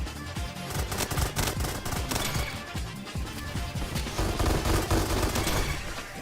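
A B92 pistol fires in the Roblox game Bad Business with a fast, dense stream of sharp, punchy shots, loud and continuous for several seconds, mixed with other game effects and no voice.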